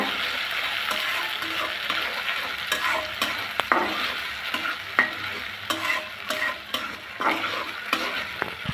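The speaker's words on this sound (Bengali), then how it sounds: "এখন একটু ভেজে নিব যাতে আদা রসুনের কাঁচা গন্ধটা না আসে" Ginger-garlic paste and chopped tomato fry in a pan, a continuous sizzle broken by repeated scraping stir strokes and spoon taps, close and with no talking.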